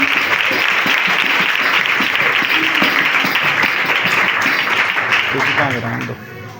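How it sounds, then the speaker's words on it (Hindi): Loud, dense congregational applause at a Christmas night church service, continuous and close for most of the stretch, with voices and cheering mixed in before it fades out near the end. "पाक रूह के लिए जोरदार तालियां बजाएंगे।"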